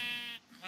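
Sheep on a video game sheep farm give one short bleat, quiet and slightly wavering, then a fainter second call begins.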